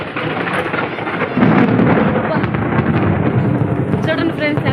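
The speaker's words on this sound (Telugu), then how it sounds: "ఎంత పెద్ద శబ్దాలతో వస్తున్నాయో ఇందుగురుపేటలో అయితే ఉరుములు" Thunder rumbles loudly during a storm in the village of Indugurupeta, a broad roar that swells midway and holds, with rain noise underneath.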